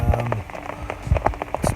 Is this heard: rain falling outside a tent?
yes